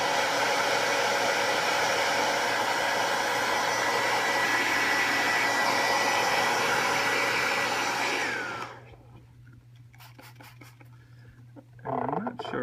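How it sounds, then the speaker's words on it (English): A blow dryer or heat gun runs steadily as a vinyl decal applied with the wet method is heated, a loud constant airy roar that cuts off after about eight seconds, leaving quiet with faint clicks and rustles. "the blow dryer is just helping to heat up and evaporate the water that's under there"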